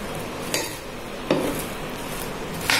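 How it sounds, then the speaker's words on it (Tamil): Fried boondi stirred into sugar syrup, a soft wet churning with three sharper clinks of a spoon against the pan, close and alone without talk. "ஸோ இதெல்லாம் நல்லா மிக்ஸ் பண்ணி விட்டோம்னா"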